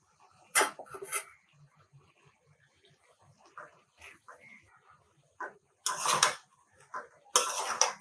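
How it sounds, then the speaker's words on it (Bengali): Jute greens tipped into a pan of cooked lentils and shrimp give a few short, sharp bursts of rustling and sizzling crackle, separated by quiet stretches with faint pan clinks. "এবার এখানে আমি শাক দিয়ে দিব।"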